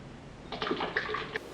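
Water splashes and spills in a kitchen while dairy-free brownies are being made, a short close burst of splashing lasting under a second, with no talking.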